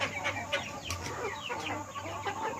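Chickens in a flock sick with a severe snoring illness cluck continuously nearby, several birds overlapping in a soft, busy chorus.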